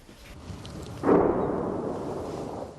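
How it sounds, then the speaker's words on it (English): An artillery shell lands a few hundred meters away during wartime in Kherson, Ukraine, giving one sudden heavy boom that rolls and fades over the next seconds, distant but powerful above a quiet outdoor background. "an artillery shell flies over and lands a few hundred meters from us"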